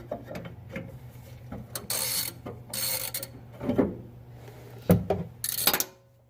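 A ratchet backs out the bolts on a rear differential cover, with bursts of fast, close clicking between quieter handling noises and a few sharper metallic knocks as the work goes on.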